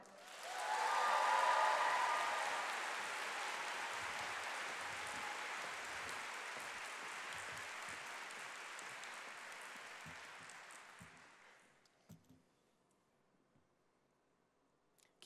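Conference audience applause welcoming a speaker onstage at a storytelling convention, a dense wash of many hands that swells quickly, holds steady for about ten seconds, then fades out, leaving scattered faint clicks.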